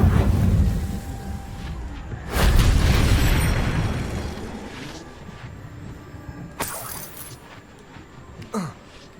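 Spell explosions from the Confringo spell in the Hogwarts Legacy game come as a loud burst and boom that fades into a rumbling tail, followed by quieter whooshes and pops.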